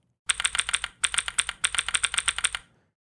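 Typing on a Keychron Q3 HE Hall effect mechanical keyboard: three close, bright bursts of rapid keystrokes with short pauses between them, heard alone without talk.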